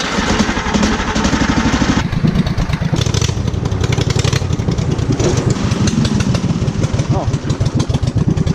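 Offroad tractor engine at Walker Valley sputtering and cutting out as if fuel-starved, a loud close uneven chugging with rough pulses throughout, a brief voice exclamation over it.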